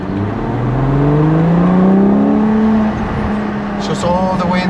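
A 715 hp Ferrari Purosangue revs through its exhaust, heard from inside the cabin with the windows down. The engine note climbs steadily in pitch, then settles into a sustained drone, with voices talking over it.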